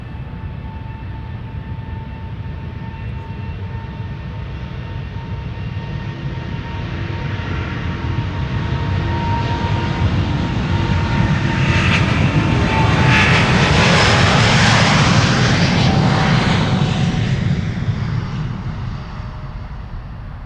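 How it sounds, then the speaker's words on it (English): A Delta Airlines jet airliner, Flight 133 to Detroit, departing Amsterdam Schiphol Airport, its engine roar building loudly over about twenty seconds and swelling into a broad rushing peak as it passes before easing off. "Delta Airlines Flight 133 to Detroit"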